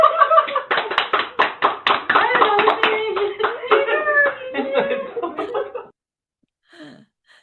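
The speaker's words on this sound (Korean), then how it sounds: "온 가족이 뒤집기를 이제 한 것에 대해서 막 박수를 치며 즐거워하고" A family claps and cheers for a baby rolling over, with a burst of rapid, close hand claps mixed with excited voices and laughter, fading out after about six seconds into near silence with a brief voice.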